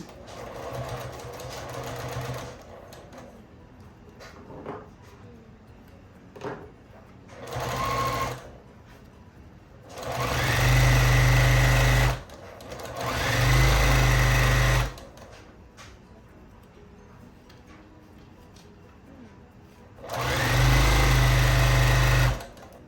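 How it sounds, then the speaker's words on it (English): Sewing machine stitching down the side of a boxy bag, running in several loud, steady bursts of a few seconds each, separated by quieter stretches of fabric handling and faint rustling. "And now I'm just going to sew down this side."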